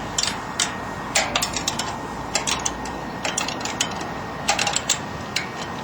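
Rapid ratcheting clicks from tightening a satellite dish mount, bursts of sharp metallic ticks in irregular groups over a steady background hiss, close up, no talking.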